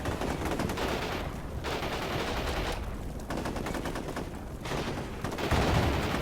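Heavy combat fire in Shock Force 2, a dense continuous barrage of machine-gun bursts and shots with a few deeper blasts, steady and loud without any voices.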